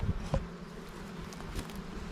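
Honeybees buzz steadily around a beehive during a hive inspection with frames and shop towels soaked in glycerin and oxalic acid, a continuous close drone with a few louder thumps near the start.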